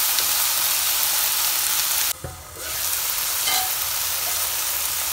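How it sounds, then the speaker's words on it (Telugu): Chopped tomato, one large one, fries in a pan with a steady broadband sizzle that cuts out briefly in the middle, then resumes at an even level. "ఈ టమాటో కొద్దిగా సాఫ్ట్ అయ్యేంత వరకు ఫ్రై చేసుకోవాలి."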